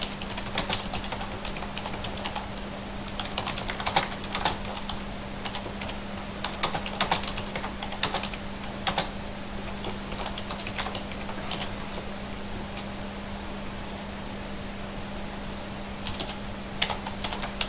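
Steady typing on a computer keyboard while writing code for a maze project in Unity, clicking in uneven bursts of keystrokes throughout, with a constant low hum underneath.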